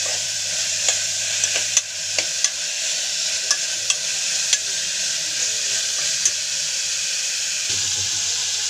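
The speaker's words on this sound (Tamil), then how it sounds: "எல்லாம் ஃபாஸ்ட்டில் வச்சு கிண்டிடுவோம் ஃப்ரெண்ட்ஸ்." Food sizzles steadily in a hot pan as it is stirred on high heat, a utensil scraping and tapping against the pan at irregular intervals, close up, with no voices.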